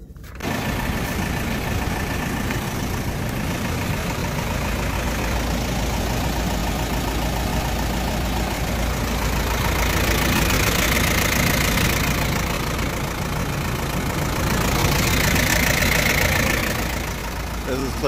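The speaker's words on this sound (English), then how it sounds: "This is clearly the truck's engine running" A Mediterranean Gyro Products food truck sits parked on a New York City street with its engine idling, a steady, dense rumble that runs unbroken and fairly loud throughout.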